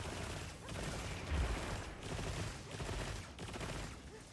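Rapid-fire gunshots in the action game Monster Hunter World, a steady chattering volley of quick shots pulsing in waves, fairly faint and muffled, with no voices over it.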